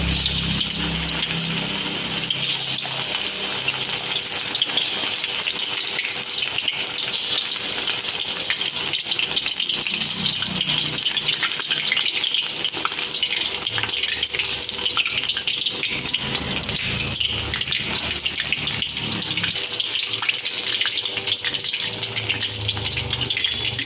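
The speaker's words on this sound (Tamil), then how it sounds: "இந்த மாதிரி ஒன் பை ஒன்னாக போட்டு ஃப்ரை பண்ணணும்" Chicken 65 pieces frying one by one in hot oil, a continuous bright sizzling hiss with bubbling crackle that runs steadily throughout, close and fairly loud.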